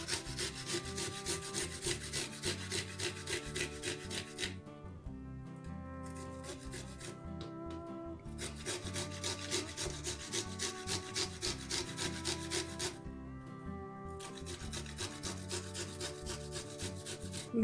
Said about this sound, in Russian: Чеснок натираю на мелкой терке.